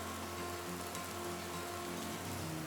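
Cold pouring rain, a steady even hiss of falling water with no breaks, faint and continuous, no voices present.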